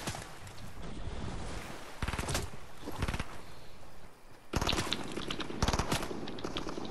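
Rapid automatic gunfire from a video game match, bursts of dense crackling shots that run nearly continuously with brief lulls, loud and close.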